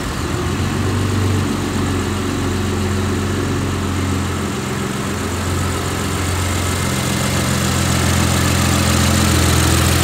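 Tuned Ford Taurus SHO with a custom carbon fiber engine cover, its engine running loud and close with a steady low idle rumble and mild swells, no clear sharp revs.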